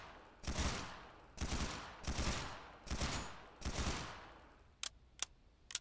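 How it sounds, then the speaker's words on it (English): UMP submachine gun fired in first person in the video game XERA Survival: five close, loud bursts of rapid automatic fire in steady succession, followed by three sharp single clicks, with no talk. "let's check out this reload animation for the UMP. Nice, nice. Shooting in first person."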